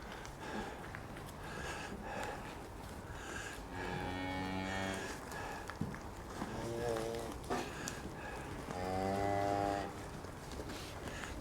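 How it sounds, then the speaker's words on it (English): Cattle on a farm moo several times, long low calls rising and falling at a moderate distance, with snorts, shuffling and some quiet talk in between. "The cows really love the wood chip"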